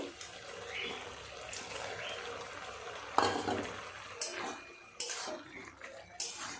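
Bora fritters go into a pan of winter greens cooking on the stove, giving a continuous soft sizzle and bubbling with occasional louder spoon scrapes and clatters against the pan.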